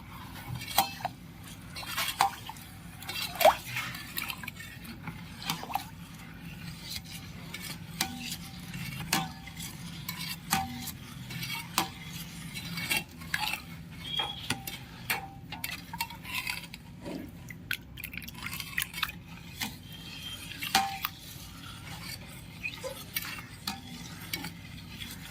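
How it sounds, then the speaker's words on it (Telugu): Junnu mixture with jaggery, cardamom powder and pepper powder being stirred in a pot, a steady run of scraping and clinking strokes with occasional sharper knocks of the utensil against the metal, close and fairly quiet. "మొత్తాన్ని మనం బాగా కలుపుకోవాలి"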